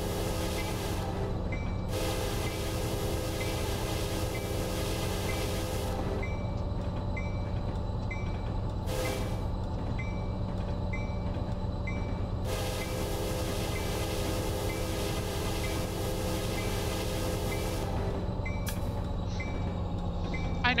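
Train Simulator 2015 locomotive running in the game with a steady mechanical drone and rail noise, while bursts of hissing air come and go over about twenty seconds.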